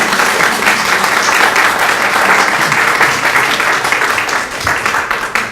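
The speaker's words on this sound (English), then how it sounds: "Mrs. Ackerman, who just received a great round of applause" Sustained applause from a council meeting audience greeting Mrs. Ackerman as she comes up for her deputation, steady and dense clapping filling the room for several seconds.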